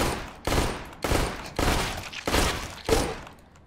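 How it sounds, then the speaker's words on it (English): Burst-fire gunshots in a video game ring out as five evenly spaced, loud bursts about half a second apart, each a sharp crack with a short decaying tail. "This is how you burst fire."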